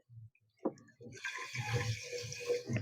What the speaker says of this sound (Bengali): 4 বাটি দিয়ে দিচ্ছি এবারে জল